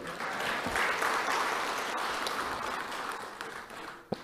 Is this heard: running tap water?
no